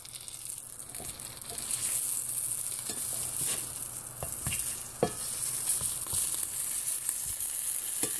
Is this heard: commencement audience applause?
no